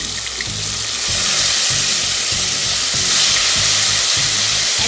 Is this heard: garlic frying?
yes